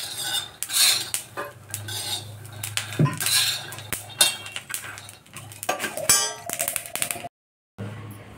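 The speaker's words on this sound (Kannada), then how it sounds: "ಸಣ್ಣ ಉರಿ ಒಳಗೆ ಹುರಿಬೇಕು ಶೇಂಗಾ ಕಾಳು" Peanuts dry-roasting in a metal pan over a low flame, stirred with a utensil that scrapes and clanks against the pan in steady, loud, close bursts, with no talking.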